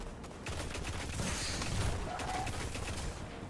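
Sustained automatic gunfire from a recoil-heavy weapon in the Destiny video game, a continuous rapid rattle lasting several seconds over a busy, noisy game mix.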